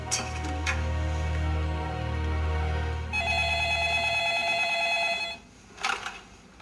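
An electronic phone rings in long repeated tones, changing pitch partway through, then stops, followed by a brief bit of noise.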